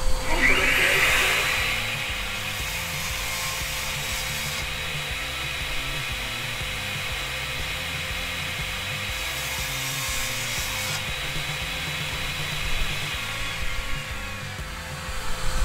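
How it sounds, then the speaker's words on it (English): A saw blade cuts across the grain of red oak veneer plywood, giving a loud, steady grinding whine with a constant motor hum that runs unbroken for about fifteen seconds. "What's particularly tricky about cutting this stuff is when you're going across the grain of the veneer."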